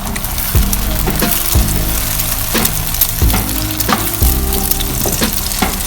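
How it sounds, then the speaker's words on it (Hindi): An egg and turmeric mixture for chicken fried rice frying in hot oil, a loud, close sizzle broken by repeated clanking strokes of a utensil against the pan, with no talking. "ऑयल गर्म होने के बाद हम इसमें अंडे का मिक्सचर डालेंगे। हम इसमें हल्दी और अंडे का मिक्सचर डालेंगे।"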